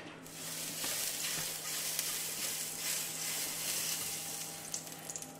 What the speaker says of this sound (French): je vais mettre la poêle en chauffe et on va faire cuire maintenant les médaillons